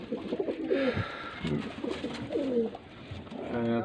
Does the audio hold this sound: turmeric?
no